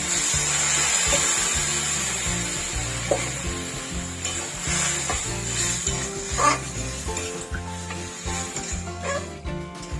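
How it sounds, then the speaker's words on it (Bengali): Boiled moong dal hits a sizzling rohu fish-head masala in a pan, giving a close, continuous frying hiss with stirring scrapes; a dog barks faintly in the background. "ডাল সিদ্ধটা দিয়ে দিচ্ছি।"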